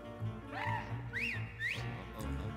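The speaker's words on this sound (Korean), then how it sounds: "뭘 또 휘파람까지 불고 그래?" A character in the video game Luigi's Mansion 3 whistles a few rising and falling tones in quick succession over soft in-game background music.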